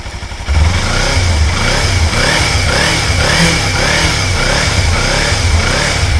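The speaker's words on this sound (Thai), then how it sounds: "ฟังเสียงเครื่องใกล้ๆดีกว่า" Up close, a 2014 Kawasaki Ninja 300 sport motorcycle with its stock exhaust starts rumbling loudly, then rises and falls in a series of rhythmic revs over a steady low idle.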